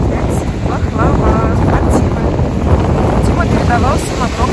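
Very strong wind at the seaside in Lazarevskoye, gusts buffeting the microphone with a steady roar under surf. Someone talks over the wind throughout.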